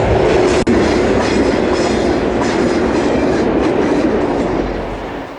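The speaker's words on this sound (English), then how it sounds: "Two FP7s lead Amtrak 711 west off of the bridge at Antioch." Amtrak 711, a westbound passenger train led by two FP7 diesel locomotives, rolls off the bridge at Antioch with a loud, close rumble and clattering wheels that fade toward the end, no voices.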